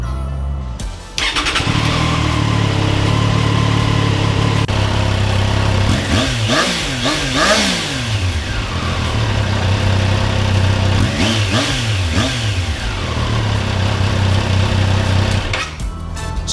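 A Triumph Daytona 660 inline three-cylinder sportbike starts up and revs through a compact stainless sports silencer, loud and close, with a steady idle broken by two sharp bursts of throttle that rise and fall before settling back.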